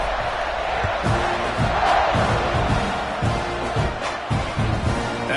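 A football stadium crowd roars loudly and steadily after a touchdown drive in an A&M vs. Oregon game, as one dense wash of cheering with rhythmic thumps beneath it.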